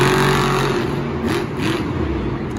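Monster Mutt Rottweiler monster truck at a Monster Jam freestyle show on a dirt track in Houston, its engine roaring loud and steady, rising and falling in pitch as it revs.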